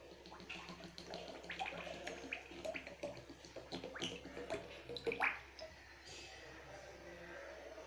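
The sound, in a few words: pouring oil into a hot kadai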